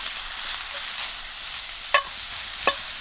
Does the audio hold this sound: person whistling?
no